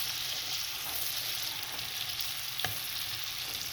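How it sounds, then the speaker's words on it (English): Shrimp sizzling steadily in a hot pan for shrimp scampi, a dense even frying hiss with a single sharp clack of the utensil partway through as they are stirred. "So I just added my shrimp to the pan, and I'm gonna let this stir this up in here for about 2 to 3 minutes"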